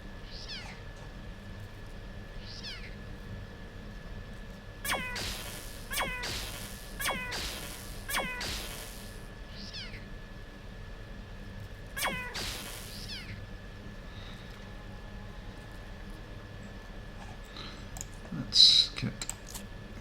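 Cats in the video game Underrail meow several times, short rising calls scattered among sharp keyboard and mouse clicks, with a louder yowl near the end over a steady game hum.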